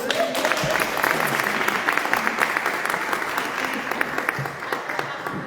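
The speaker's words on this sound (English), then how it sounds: "Let's give her a big round of applause." Sustained applause from an audience at the Littell Partin Center, steady clapping filling the room for several seconds with a few louder claps standing out.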